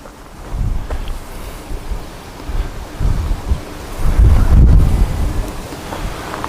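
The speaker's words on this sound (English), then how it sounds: "it is getting a bit blustery" Gusty wind buffets a microphone outdoors at Leeds Bradford Airport, with low rumbling swells that rise and fall in irregular surges and peak loudly midway, and no speech.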